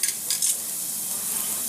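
Garlic sizzles steadily in a hot pan, a close, bright hiss with a few scraping stirs near the start.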